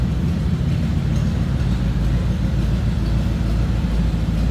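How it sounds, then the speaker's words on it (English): The flathead V8 of a 1951 Mercury Custom two-door idles with a deep, steady, burbling rumble. It sounds close and fairly loud and continues evenly without any speech. "something about a flathead sound that's in a 50s rod"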